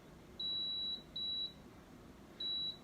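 Air fryer control panel beeping as it switches to grill mode: three clear, high electronic beeps, two close together and a third after a pause, over a faint steady hum.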